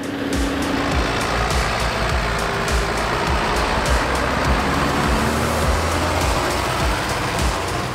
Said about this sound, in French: les John Deere 7810. Les 6 cylindres de 175 chevaux des années 90, avec leur son caractéristique et puissant